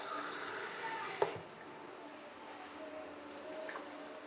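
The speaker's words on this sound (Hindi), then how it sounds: "बस अब इसमें मैं थोड़ा पानी डालूँगी" Water poured into a pan of simmering potato and pea curry, a splashy gush with a sharp clink early on, then softer bubbling and trickling, close by, no talking.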